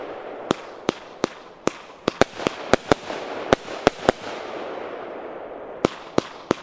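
A Sternenmeer aerial pyro cake fired low in a fireworks show: a steady run of sharp pops and crackles over a hissing wash, with a short gap before a final few reports.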